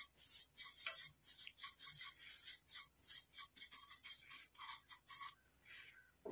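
Mustard seeds frying in hot oil begin to pop and sizzle, giving quiet, irregular crackling bursts that come in quick clusters and scattered single pops, faint and close, with no talking.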